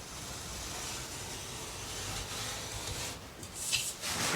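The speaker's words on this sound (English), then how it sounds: "Just run your knife." Utility knife scoring a straight line across drywall along a straight edge, a steady close scraping rasp that runs continuously for several seconds with no talking.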